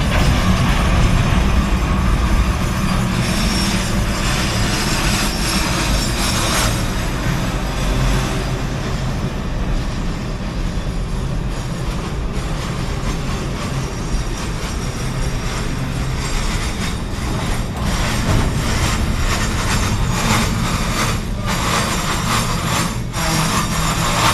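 A train slows under braking, a loud continuous rumble and grinding of rail cars with faint clicking, heard close and steady without talk.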